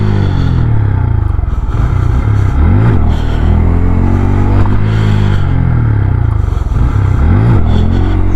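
A Honda Grom motorcycle with its stock exhaust accelerates hard on a road, the engine revving up loudly and close through several repeated rises in pitch, with clatter and scraping underneath.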